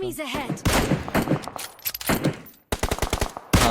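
Video game gunfire in a shooter: bursts of rapid automatic shots and single cracks, loud and close, mixed with overlapping excited voices talking.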